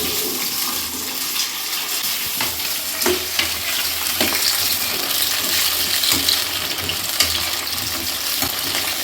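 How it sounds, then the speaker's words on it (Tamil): Quartered eggplant frying in oil makes a continuous loud sizzle with bubbling, and scattered stirring clatters break through the hiss. "எண்ணெயில் வந்து லைட்டாக இப்போ ஃப்ரை ஆகட்டும்."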